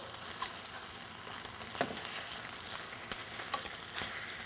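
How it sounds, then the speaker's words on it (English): Chicken pieces turned over in a 14-inch skillet, frying with little grease, make a soft continuous sizzle broken by a few faint taps and scrapes as each piece is flipped. "Let's go ahead and turn this chicken for us."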